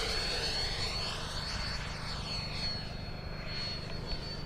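An HSD 90mm Viper RC model jet in flight gives a continuous whooshing turbine roar that sweeps past with rising and falling pitch, loud and steady throughout.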